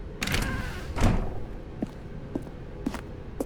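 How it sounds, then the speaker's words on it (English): A door opens in The Stanley Parable with a soft thump and creak, followed by a few quiet footstep-like taps spaced out afterward. "Stanley walked through the red door."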